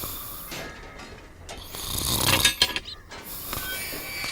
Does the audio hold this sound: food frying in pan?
no